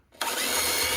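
A power drill fitted with a small wood drill bit bores into wood: after a moment of quiet, the motor abruptly whirs up to a steady, close high whine.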